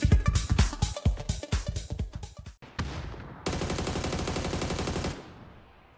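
Explosive battlefield fire in the PUBG video game, a rapid series of loud booming impacts over the first few seconds, then a sustained rattling burst of gunfire that cuts off and fades.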